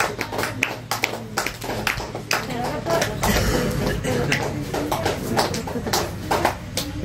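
A group applauds at a simple birthday celebration held in an orphanage, with bursts of hand clapping in uneven rhythm, close and moderately loud, and some voices in the background.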